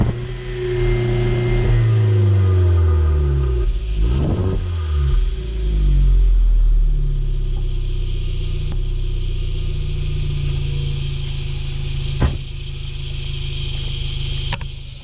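A 2014–2015 Holden Barina engine revs up against its 3,500 RPM limiter, rising to a steady, loud mid-pitched drone that bounces at the cap and falls back, with a sharp click near the end and no voices.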